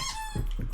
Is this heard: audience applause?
no